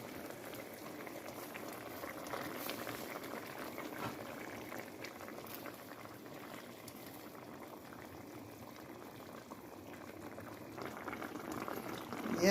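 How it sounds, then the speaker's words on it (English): A pot of curry fish steaming over boiling water, a faint, steady bubbling simmer with soft liquid churning throughout, quiet and close. "so there goes the steamed fish, curry fish, so it's steaming."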